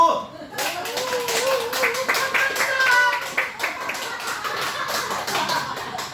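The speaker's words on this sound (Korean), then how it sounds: "저 문자에게 박수!" A crowd at a laughter therapy lecture breaks into lively applause with some cheering and laughter, clapping continuing steadily throughout.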